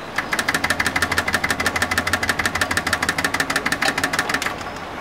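Rear spare tire bracket on a Suzuki Jimny, stressed by a bent rear hatch, rattling while the vehicle drives, a fast, steady metallic clatter of rapid regular knocks over low engine rumble, loud and close throughout.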